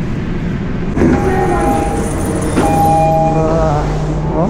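Interior of a crowded passenger train near Tokyo, with a steady low rumble of the carriage in motion and faint tonal whines from the motors rising and shifting throughout, loud and continuous with no clear talk.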